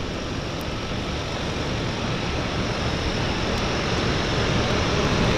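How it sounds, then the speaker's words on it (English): A Harbour Air Cessna Caravan floatplane taxis while an Otter floatplane pulls into the dock at Vancouver's downtown harbour, a steady, loud, broad engine-and-water roar holding constant throughout. "So we have a Harbour Air caravan taxiing out as our Otter pulls into"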